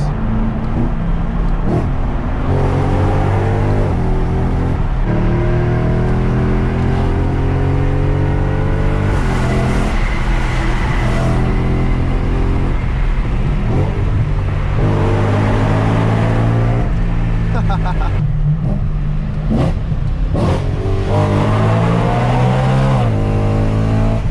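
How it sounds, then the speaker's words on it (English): A modded E92 BMW M3 accelerates hard up close, its loud engine note climbing repeatedly and dropping with each upshift, the gear changes landing with a sharp smack. "when you do low speed upshifts, it smacks the gear"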